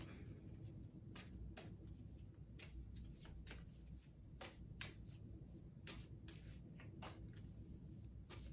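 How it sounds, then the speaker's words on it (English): Stiff tarot cards are shuffled repeatedly, a series of sharp riffling snaps and flicks over a steady low background hum, close and fairly quiet. "The cards are kind of robust, so it's a little difficult to shuffle"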